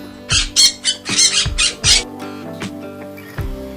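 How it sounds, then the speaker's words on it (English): A parrot squawks in a quick series of loud, harsh bursts up close, with a few fainter calls trailing off against a low steady background hum. "This one is the parrot."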